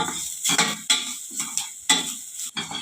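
Masala being sautéed in a pan over a low flame, with repeated scraping stirs in an uneven rhythm over a soft sizzle, close by and fairly quiet.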